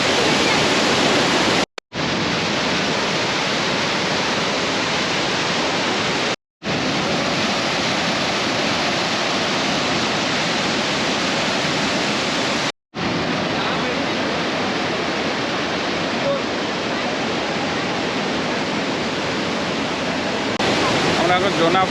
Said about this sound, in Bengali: এখানে প্রচুর জল আছে, জোনা ফলসে প্রচুর জল দেখতে পাচ্ছি